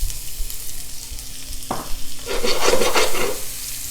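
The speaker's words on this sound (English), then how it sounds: "I have about 1 cup of finely minced white onion that we're going to saute first" Finely minced white onion sautéing in olive oil in a skillet, a soft scrape and stir of a utensil followed by a rising, steady crackling sizzle that carries on, close up, with no talking.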